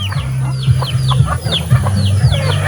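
A flock of chickens clucks close by at feeding time on a farm, with repeated sharp chirping calls over a continuous low drone.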